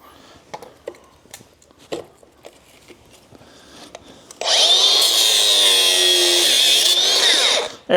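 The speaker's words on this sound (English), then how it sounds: "To the grinder." An angle grinder hacks off a part on a 12V Cummins engine in a workshop, with a loud, steady, high-pitched grinding that runs for about three seconds after a stretch of scattered clanks and handling noises.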